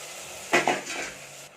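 Ginger garlic paste hits a pan of sautéed tomato and onion for prawn biryani, giving a short burst of sizzle and a couple of spoon scrapes before settling into a soft steady fry.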